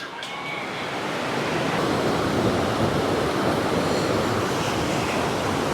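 Fast-flowing river water in Bhaba Valley, Kinnaur, rushing with a steady, loud, broadband roar that builds over the first second and then holds constant, with no voices.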